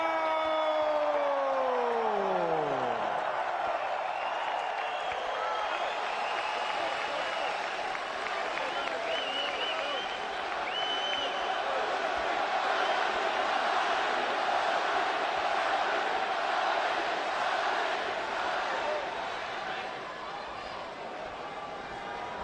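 A boxing arena crowd roars and cheers for Manny Pacquiao before his November 2013 bout with Rios, a dense sustained wall of voices and applause that opens with a falling whistle-like tone and stays loud throughout.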